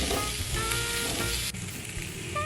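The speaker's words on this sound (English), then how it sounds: "Now just toss the onions around in the pan so that it soaks up all the juices" Sliced onions sizzle in a hot hamburger pan as they are tossed in the patty juices, giving a steady, dense crackling fry throughout with light stirring scrapes.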